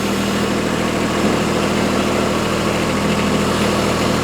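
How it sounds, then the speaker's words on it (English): A B01 tractor with an LA435 loader, engine idling steadily and loud up close while the loader is set down on its stand, a continuous even drone with no talk. "he's going to set the loader back down"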